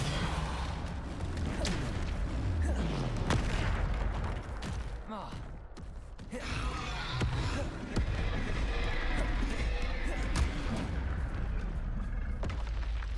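Hogwarts Legacy spell combat: repeated Bombarda and Depulso blasts boom and crack over a dense, busy game mix, with a voice talking throughout and loud bursts recurring every few seconds.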